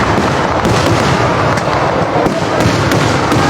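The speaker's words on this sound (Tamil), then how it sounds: "ஸோ இந்த 2 கோவில்லையும் பார்த்தீங்கன்னா ஃபயர் ஒர்க்ஸ் வந்து ஃபயர் பண்ண போகிறாங்க." Dense, continuous crackling and booming of a temple fireworks display at the Nenmara Vela festival in Kerala, loud and close, with barrages of rapid bursts merging into a sustained roar.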